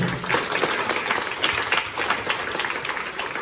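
Loud, dense applause from an audience at a business motivational talk, steady clapping throughout with no break.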